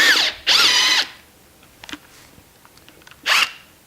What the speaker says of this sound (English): tighten the clamp bolt until the tool is perpendicular. Then drive the ram bolt.